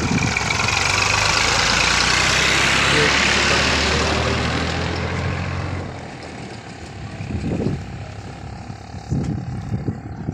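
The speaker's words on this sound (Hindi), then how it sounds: "ये सामने ट्रैक्टर ट्राली आ रही है" A tractor pulling a trolley at a sugarcane truck loading site rumbles loudly with a steady low engine drone for about six seconds, then fades to a lower idle amid background activity and scattered voices.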